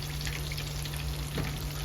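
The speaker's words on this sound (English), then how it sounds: "when you're frying your chicken wings, if you want them crispy" Steady crackling sizzle of chicken wings frying in hot oil, continuous and close, with a constant low hum underneath.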